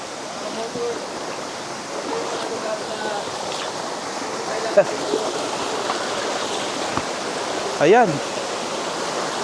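Steady roar of Tadtaran Waterfalls near Puerto Princesa fills the scene, broad and constant, with a brief voice and a short rising call near the end.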